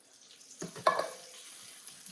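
Hot water poured from a tomato can splashes into a beef and potato stew pot with diced tomatoes, giving a brief close splash followed by soft bubbling and sizzling.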